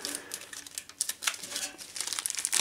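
A small plastic bag of screws and standoffs from an LC-Power 2004MB PC case crinkles continuously up close, with irregular sharp rustles and crackles as it is handled.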